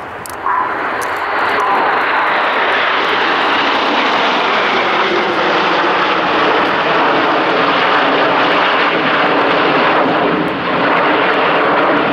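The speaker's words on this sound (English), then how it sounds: "With seven aircraft, we call this short diamond, and this is the short diamond roll." Red Arrows jet aircraft fly a seven-ship short diamond roll at an air show, a loud continuous broadband jet roar that holds steady and close for the whole stretch, with no voices over it.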